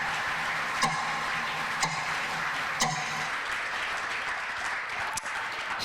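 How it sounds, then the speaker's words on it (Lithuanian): Loud audience applause at a school šimtadienis celebration, a steady dense wash of clapping lasting the whole stretch with a few sharper individual claps standing out. "Garsiais plojimais."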